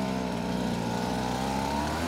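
A Stihl leaf blower drones steadily a short way off, an even motor hum that holds without pause at moderate volume.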